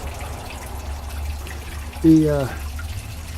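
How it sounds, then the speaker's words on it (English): Water and gravel slosh briefly in a gold pan as concentrates are cycled around to expose gold, one short swirl over steady outdoor background noise with faint speech. "cycling the water around, and the gravels, the concentrates around, and exposing the gold"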